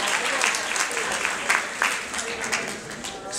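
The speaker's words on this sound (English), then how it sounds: "Give yourselves a round of applause." An audience at a keynote talk applauds in a dense, sustained wash of clapping that carries steadily from start to finish without pause.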